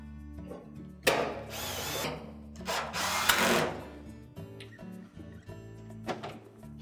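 A power driver runs in several short bursts, whirring up and stopping, as screws go in across the top of an LG dryer panel during a drive motor repair. It is close, with clinks and handling noise between bursts.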